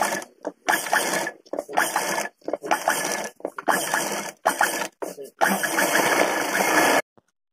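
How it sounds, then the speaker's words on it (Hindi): Sewing machine stitching fabric around a curve for a small Laddu Gopal deity dress, running in several close, loud mechanical bursts separated by brief pauses, with a final longer steady run before stopping. "यहाँ से गोलाई में भी हम सिलाई कर लेते हैं पहले"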